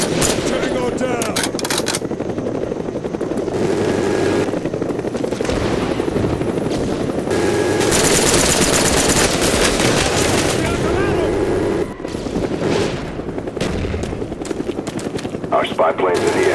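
Call of Duty Black Ops multiplayer match with a Cobra attack helicopter rotor thumping overhead amid steady gunfire and machine-gun bursts, loud and continuous, with game voice callouts over the din.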